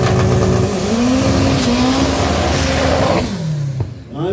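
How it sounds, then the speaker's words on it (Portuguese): Drag racing cars, including a Chevette, roar loudly down the strip, with engine pitch climbing and dropping through gear changes before the noise fades near the end. "Thiago Parquelândia de Chevette na pista da esquerda. Dianteira versus traseira no Shark Tank"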